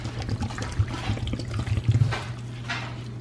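Flour-thickened liquid being poured into a pot, a soft continuous trickle and splash with uneven bursts, close and moderately quiet, no talking.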